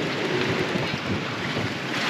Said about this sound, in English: we've had a few waves coming to the cockpit because it's quite windy